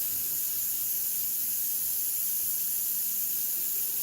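A paint spray gun sprays paint onto synthetic paper, giving a steady, even hiss of air and mist that runs unbroken for the whole stretch with no talking.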